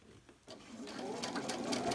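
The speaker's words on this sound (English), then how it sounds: "Remember that when you're sewing, you're trying to keep that straight line. You do not want to go over your pins, as that will jam your machine." A sewing machine stitching fabric strips for a mug rug starts up and runs in a fast, steady, close mechanical whir.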